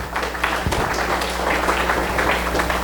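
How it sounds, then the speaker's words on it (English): An audience at the Big Data Day LA 2016 data science conference applauds the speakers with a steady, even wash of many hands clapping throughout, over a low electrical hum in the hall. "Please give him a big round of applause."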